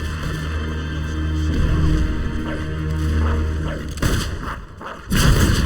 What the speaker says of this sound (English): We need to take care of that mortar.